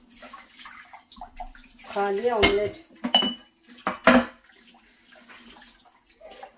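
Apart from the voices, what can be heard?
water collecting in a blocked kitchen sink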